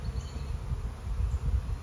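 Swarming bees circle near a hive, their low droning buzz rising and falling in gentle waves for about two seconds, fairly close and with no talking.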